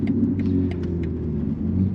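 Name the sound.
BMW M3 car driving at night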